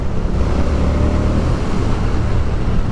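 A 2023 Moto Guzzi V100 Mandello motorcycle engine purrs off throttle around 4,000 to 5,000 RPM, a loud, steady, close-up mechanical rumble that continues without a break and has no talking.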